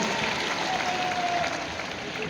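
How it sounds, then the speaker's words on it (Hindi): Loud, steady applause from a crowd at a political rally speech in Bihar, continuous clapping filling the whole stretch with no pause. "आप इनके लिए एक बार जोर से ताली बजाइए"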